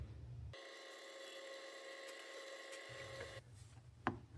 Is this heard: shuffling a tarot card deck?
no